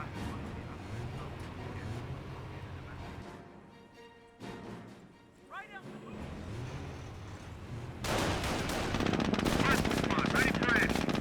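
Machine-gun bursts and heavy weapon fire from tanks in a Company of Heroes 1 battle between US forces and Panzer Elite panzers, with loud sustained gunfire, a brief quieter lull midway, then a dense intense barrage toward the end.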